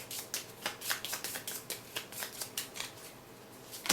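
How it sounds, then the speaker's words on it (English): A deck of Legendary Encounters Predator game cards being shuffled by hand, a rapid series of crisp riffling bursts close to the mic, repeating steadily for a few seconds. "Do a quick shuffle"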